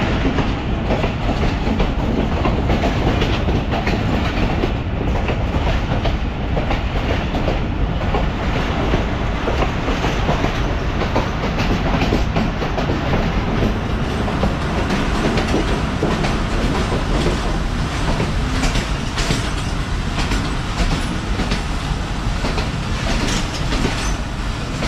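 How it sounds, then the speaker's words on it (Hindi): The Pakistan Express rolls into Gujar Khan railway station with a steady loud rumble and rhythmic clatter of wheels over the track, continuous throughout. "गुजर खान रेलवे स्टेशन एंटर हो रही है ट्रेन"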